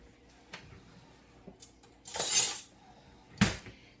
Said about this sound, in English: just stir it around and get the butter onto the crackers